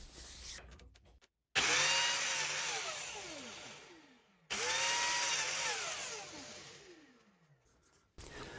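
A power drill bores an access hole into wood using a small jig in two long bursts, the motor whining loud and close, separated by a short pause and faint handling noises.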